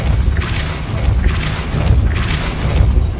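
Repeated Depulso force spells cast in Hogwarts Legacy, producing several booming whooshes with thuds at roughly one-second intervals over a steady low rumble.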